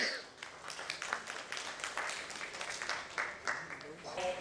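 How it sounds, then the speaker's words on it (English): Audience at a corporate social responsibility summit and awards event applauding, a moderate, fairly distant wash of clapping with a few sharper claps, with a voice speaking over it. "can we hear a huge round of applause for her?"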